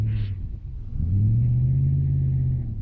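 A 5-litre Holden Commodore VN engine revs during a burnout on capeweed, a deep rumbling drone that dips briefly and then climbs to a sustained, louder roar held close to the microphone.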